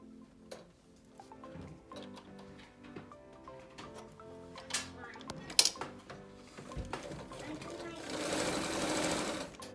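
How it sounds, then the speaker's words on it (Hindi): A sewing machine stitches the side seam of a small baby girl's skirt, running in steady bursts of whirring needle noise at close range, with a softer, denser run near the end. "और जो दूसरी साइड की सिलाई हमारी बची है ये वाली,"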